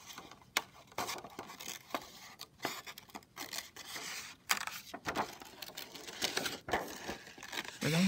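Scissors snip through paper to cut out a handle shape for a Greek pottery model, a quiet run of short, irregular cutting clicks and rustles spread across the span.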